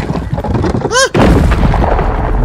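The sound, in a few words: bomb explosion in a video game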